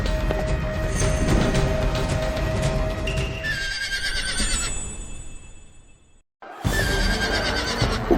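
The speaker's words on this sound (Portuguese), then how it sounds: "Um cavalo se assustou." A startled horse neighs loudly amid a busy street scene with cart traffic, the whinny rising over background bustle before a brief silence, then another neigh.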